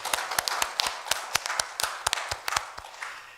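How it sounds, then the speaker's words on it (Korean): A church congregation claps together in a steady, rapid rhythm of sharp, distinct claps, moderately loud and sustained for several seconds, with no talking. "하나님께 영광의 박수 올려드리겠습니다"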